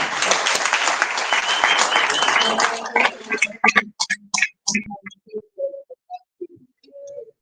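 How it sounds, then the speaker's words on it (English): Audience at a mining conference panel in Cape Town applauds the panelists, a loud dense burst of clapping for about three seconds that thins into scattered claps and fades as a voice begins speaking. "please a round of applause for our panelists"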